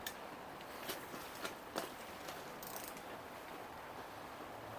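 A small ratchet snugs down bolts on a Ford F-250 engine, giving faint, quiet clicking bursts in a few short runs with no talking.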